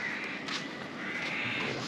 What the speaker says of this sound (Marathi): फक्त ते कावळे आवाज करतात तेवढंच